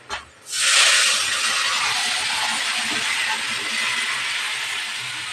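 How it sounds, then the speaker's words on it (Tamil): Tamarind water hits a pot of Tamil vatha kuzhambu curry with a sudden loud hiss that settles into a steady, bubbling simmer. "நல்லா கொதிக்கட்டும் குழம்பு."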